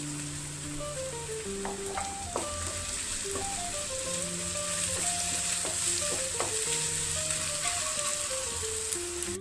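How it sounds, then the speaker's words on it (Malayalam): Onions with slit green chillies, curry leaves and salt sauté in a pan for chicken curry, giving a steady close sizzle and crackle over soft background music, with no talking. "ഉള്ളി സവോളയൊക്കെ നന്നായിട്ട് വഴന്ന് വന്നിട്ടുണ്ട്"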